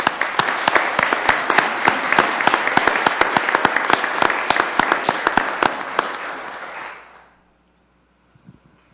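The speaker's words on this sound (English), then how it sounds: "A round of applause, please." A round of applause in a city council meeting chamber, a crowd's dense, even clapping with distinct sharp claps standing out, holding steady for about seven seconds before stopping abruptly into near silence with a few faint sounds after.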